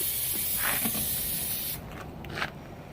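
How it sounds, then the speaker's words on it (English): Air hissing out of trailer airbags as the pressure is let go, a steady loud spray-like hiss that drops and softens partway through, with faint bumps and no talk. "you can hear the airbags letting go"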